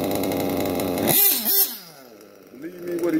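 Chainsaw engine running after its carburetor needle has been adjusted, a steady loud buzzing drone that cuts off abruptly, followed by a few lower blipping revs.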